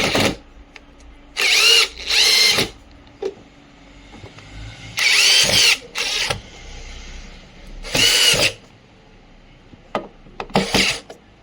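A power screwdriver drives screws into a home theater speaker box, whirring in several short loud bursts of about a second each with quiet gaps and small clicks between them, no talking.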